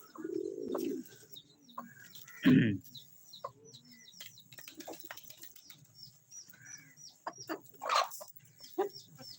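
Chickens cluck softly and intermittently, with a brief burst of wing flapping early on, in a quiet outdoor setting.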